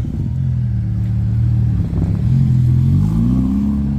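A Ferrari Roma sports car pulls in at a car meet, its engine a loud, close, deep rumble that rises in pitch as it accelerates, with no voices.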